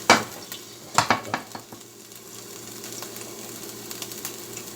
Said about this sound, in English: Adding just a little bit of oil for the vegetable